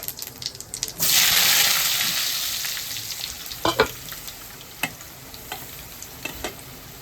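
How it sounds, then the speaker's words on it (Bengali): Four pieces of a single potato frying in hot oil with whole cumin, giving a steady close sizzle that swells loudly at first, then settles beneath scattered stirring clicks and light taps. "আলুটা একটু লাল করে ভাজা হোক"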